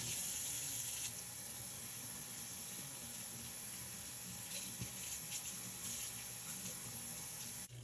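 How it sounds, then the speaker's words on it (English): Tap water runs steadily through a sink as a protein mask is rinsed out of 4c hair, a continuous faint hiss with soft splashing and no talk. "It's been 15 minutes, so I am rinsing out the protein mask."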